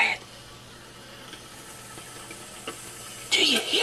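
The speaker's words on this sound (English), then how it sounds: "Do you hear the glorious sizzling of hot dog meat on electrodes?" Continuous faint hiss of hot dogs sizzling on electrodes in a Presto Hot Dogger, with occasional pops and a louder burst of crackling near the end, nearby.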